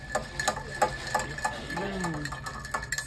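Ward 8 cocktail stirred with ice, a close run of quick, irregular clinks and rattles of ice against the glass, with a faint voice briefly underneath.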